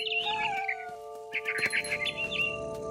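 Mama bird chirping in What Remains of Edith Finch, a string of bright, high tweeting calls in two bursts over a steady tonal hum, moderately close with no voices.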